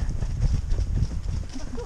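Hooves of a ridden horse clip-clop steadily, close by, during a jumping ride, with a rough low rumble and bursts of movement behind.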